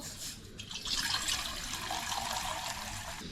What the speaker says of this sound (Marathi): पातील्यामध्ये पाणी टाकायचं आपल्याला थोडंसं